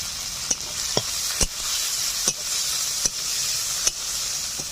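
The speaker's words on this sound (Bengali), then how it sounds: "পেঁয়াজগুলো হালকা লালচে করে ভেজে নেওয়ার পর দিয়ে দিচ্ছি টমেটো, কাঁচা লঙ্কা চেরা, লবণ পরিমাণ মতো" Tomatoes, slit green chillies and salt hiss and sizzle in hot oil with browned onions for a village-style fish curry, a steady close frying noise broken by sharp spoon scrapes and stirring knocks about every second.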